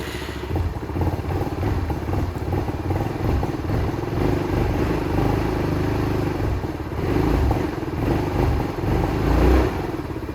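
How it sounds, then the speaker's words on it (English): A Venom X21 50cc automatic motorcycle engine with a fuel pump runs steadily and loudly up close, with a rough rattling idle that swells slightly toward the end. "every time that you crank the engine"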